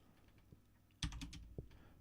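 Typing on a computer keyboard, a quiet patter of keystrokes with a short denser burst of clicks, heard close and alone without speech.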